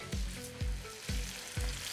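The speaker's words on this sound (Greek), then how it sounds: "Και θέλουμε να τηγανίσουμε για λίγη ώρα." Small sand smelt fish being fried in hot oil, a loud, steady sizzle with four sharp bursts spaced about half a second apart, close up and with no voices.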